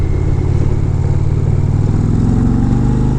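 An Indian Challenger motorcycle engine drones steadily and loudly while being ridden, a hot V-twin with strong low harmonics that climb slightly in pitch toward the end as the rider speeds up.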